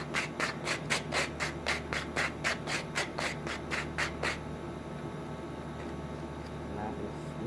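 A wooden project sanded by hand, about a dozen quick even strokes rubbing back and forth in a steady counted rhythm, close up, then a quieter stretch of faint scraping.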